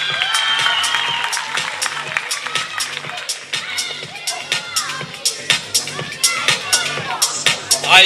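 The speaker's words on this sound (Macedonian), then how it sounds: "Ајде, сите аплауз за Ритко е" An audience at a charity event breaks into applause, a burst of clapping and cheering that thins into scattered, rhythmic claps, with crowd voices and babble mixed in.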